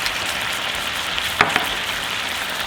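Balsamic vinegar hitting tender mushrooms in a hot pan gives a steady, close frying sizzle throughout, with a brief louder burst of spatter partway through and no talking.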